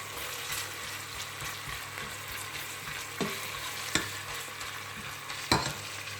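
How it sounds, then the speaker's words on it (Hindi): Onions fry in oil for a chicken palak curry, a continuous close sizzle with a few sharp utensil knocks against the pan, no voices. "चले प्याज फ्राई होने देते हैं"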